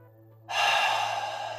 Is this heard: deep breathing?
yes